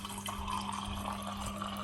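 Water running from the dispenser of a Samsung smart digital display door fridge after a water filter change, a steady splashing pour into a container over a constant low hum.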